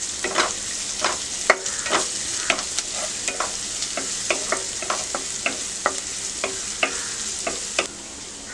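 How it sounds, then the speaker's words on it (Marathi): Grated garlic and ginger sautéed in a spoonful of hot oil, a steady close sizzle broken by regular scraping strokes of a spoon stirring the pan. "व्यवस्थित सोटे करून घेऊया"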